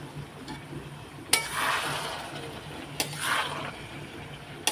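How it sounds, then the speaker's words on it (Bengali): Fried potatoes being stirred in a pan, with two clear scraping bursts of the spatula over a low background sizzle, close and moderately loud. "এখন এটাকে নাড়া দেবো"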